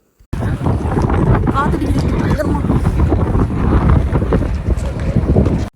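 Strong February wind in Iceland gusting hard against the microphone, a loud continuous roar and buffeting with someone talking over it.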